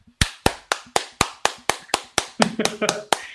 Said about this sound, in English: stop clapping! Stop it!